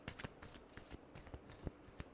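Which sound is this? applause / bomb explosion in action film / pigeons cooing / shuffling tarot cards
shuffling tarot cards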